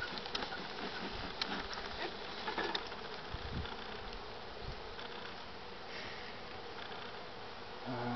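Dense, steady buzzing of many honeybees during an inspection of an open beehive, close and continuous throughout with small fluctuations, no voices.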